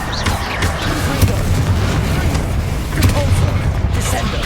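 A Bombarda explosion spell in Hogwarts Legacy sets off a dense, rumbling blast, with heavy booms around the middle and again near the end over continuous game noise.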